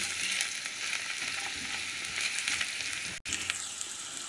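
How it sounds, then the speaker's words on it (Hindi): Carrots frying in hot oil give a loud, dense, continuous sizzle close by, with one very brief dropout near the end. "ऑयल हमारा जो है वो गरम हो चुका है और अब हम इसमें डालेंगे गाजर।"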